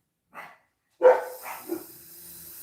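Dogs barking at home around dinner time: one short bark, a pause, then a louder cluster of two or three barks trailing into a faint hiss, with nobody speaking.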